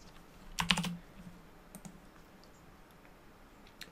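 Quiet clicks from typing on a computer keyboard, one short cluster of keystrokes followed by a few sparse faint taps in an otherwise quiet room.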